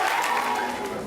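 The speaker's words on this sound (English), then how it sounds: "let's have another round of applause for the rest of them" Applause at a school attendance award ceremony: a steady, dense wash of clapping from an assembled audience, moderately loud and continuous throughout, with no clear voices over it.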